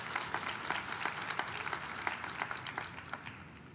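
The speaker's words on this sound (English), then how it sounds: "So a round of applause for Larry." Applause from a conference audience at a closing plenary, a soft, distant wash of many hands clapping continuously with a few louder individual claps.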